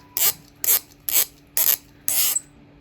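A handheld sharpener shaving a coloured pencil, five short even bursts of gritty scraping, close and alone.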